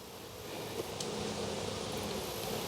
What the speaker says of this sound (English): there were thousands of bees doing orientation out front